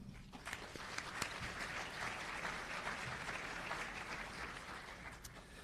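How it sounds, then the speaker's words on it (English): Audience applause at a West Virginia business summit, steady, dense clapping filling the room for several seconds without a break. "So that deserves a round of applause."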